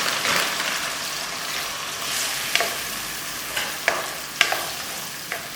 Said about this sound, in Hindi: 2-4 चम्मच चलाएंगे हम। उसके बाद हम इसके अंदर मटर डाल देंगे।